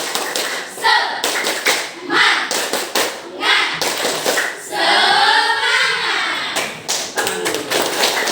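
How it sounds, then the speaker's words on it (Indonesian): A classroom of students doing a rhythmic spirit clap, quick bursts of patterned hand claps and taps repeating across the room, mixed with children's voices chanting along. "Kita lakukan tepuk semangat dulu ya"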